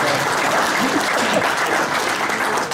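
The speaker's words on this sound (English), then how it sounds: "yeah, you can clap at that." An audience at a Cleveland Guardians public affairs talk claps steadily and loudly throughout, a dense continuous wash of applause with no pauses.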